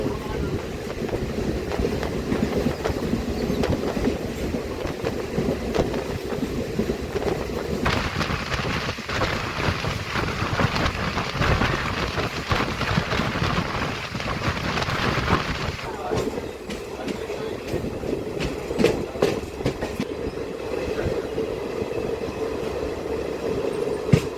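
A DEMU local train runs at speed between Kacheguda and Karimnagar, its steady loud rumble and wheel clatter continuous from inside the coach, with a shift in tone partway through as the noise swells and eases.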